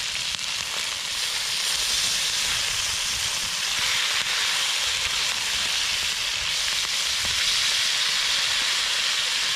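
Moose meat deep-frying in fat at a camp in the Alaska Range, giving a steady, loud sizzling hiss that holds evenly throughout with no pauses and no voices.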